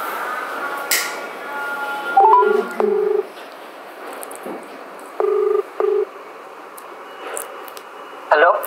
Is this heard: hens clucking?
no